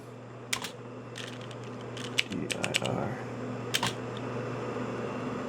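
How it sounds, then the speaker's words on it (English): Keys clack on the keyboard of a Bondwell B310 laptop with a double-stroking fault, in scattered short bursts of close, sharp taps over a steady fan hum. A voice speaks briefly between the bursts. "this keyboard's kind of funky. Keeps double stroking a lot."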